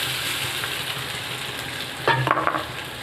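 Rice frying in hot oil with cinnamon, cardamom and cloves for homemade pulao, a steady close sizzle with a burst of crackling and stirring as the grains go in.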